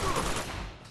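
Gunfire in Uncharted 2: Among Thieves during a firefight, a dense continuous burst of shots filling the whole short moment, loud and close.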